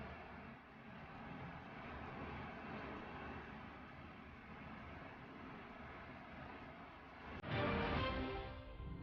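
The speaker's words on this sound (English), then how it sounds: "This pilot was filming as another plane was flying right beneath him." A steady aircraft engine drone fills the air, with a louder swell of roar near the end as the plane passes close.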